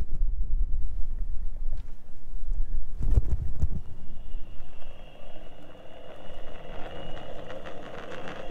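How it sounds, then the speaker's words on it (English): Wind rumbles against the microphone with a loud burst midway, then a steady higher whir joins the blustery noise; no talking. "It's windy"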